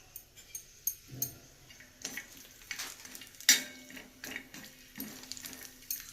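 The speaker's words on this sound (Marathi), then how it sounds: "आधी मी खोबरं थोडं परतून घेते तेलात।" Grated coconut is sautéed in oil for a spicy pea and potato curry, heard as soft crackling sizzle with intermittent scraping stirs and a sharp clink, close and fairly quiet, no speech.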